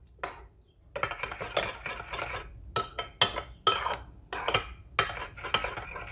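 A marinade for roast ribs is stirred in a bowl, a spoon clinking and scraping repeatedly against the side in an uneven rhythm, close and fairly loud, with no voices.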